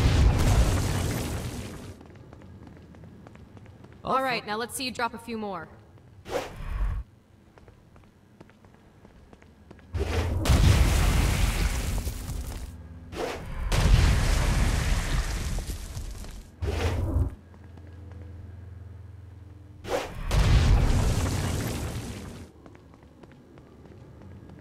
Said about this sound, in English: So go ahead and blast these demons to turn them to stone.